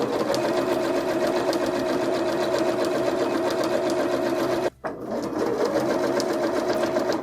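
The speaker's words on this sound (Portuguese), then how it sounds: "eu vou para a máquina e vou passar uma costura exatamente em cima do risco aqui" A sewing machine runs steadily and close, its needle chattering rapidly as it stitches fabric onto batting along a marked line, with one brief pause before the stitching resumes.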